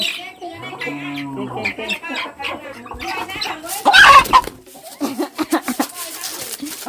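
Chickens cluck repeatedly at close range, in short irregular bursts mixed with other voices and bustle, with a louder flurry around the middle; no clear speech over them.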